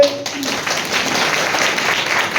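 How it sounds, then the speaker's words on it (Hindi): An audience at a sales meeting claps together, a loud dense burst of many hands that starts abruptly and holds steady throughout, with no talk over it. "एक बार ताली बजा दीजिए।"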